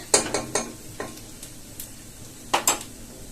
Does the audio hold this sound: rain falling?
no